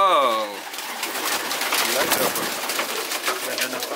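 Racing pigeons of the Mona Lisa and Rocket strains in a loft, giving soft low cooing and bird calls throughout under a rustling background, with a person speaking briefly near the start.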